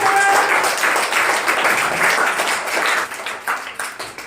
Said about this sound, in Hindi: ताली बजाओ सब मीनाक्षी